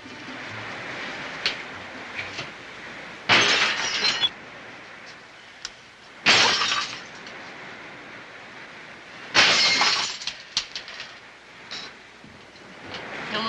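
Drinking glasses are smashed in a 1954 film scene, with three loud, sharp crashes spaced a few seconds apart and scattered smaller clinks and room noise between them.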